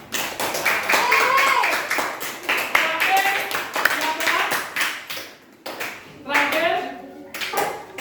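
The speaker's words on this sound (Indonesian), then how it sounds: "tepuk tangan untuk kelompok 5" A classroom of students claps for a student group during a fractions lesson, a dense run of hand claps that fades briefly and picks up again, with children's voices and talk mixed in.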